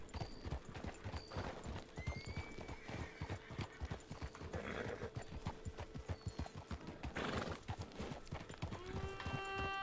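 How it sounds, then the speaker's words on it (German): A donkey in the video game Red Dead Redemption 2 clops along with a steady, close hoof rhythm, ending in a brief whinny-like call over a faint game backdrop. "Ein Esel."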